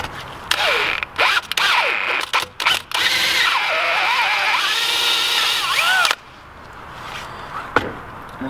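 A power drill bores through a part in short whirring bursts, then a sustained high whine with shifting pitch as the bit bites, stopping abruptly to leave quieter background and a final click.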